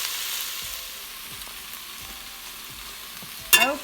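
Garlic hits a hot pan while cooking chicken and dumplings, making a steady, even sizzle, with a sharp clatter of a utensil or pan near the end.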